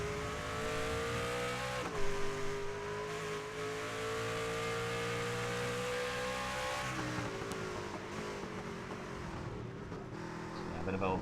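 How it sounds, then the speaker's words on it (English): A race car engine in the iRacing video game at Circuit of the Americas roars steadily with high revving harmonics, pitch dropping sharply as it downshifts under braking, with a commentator talking over it. "Just listen to the engine as we come down into the brakes."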